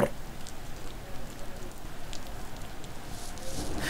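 Heavy rain falls outside with no wind, a steady faint patter heard from indoors, irregular and low in level.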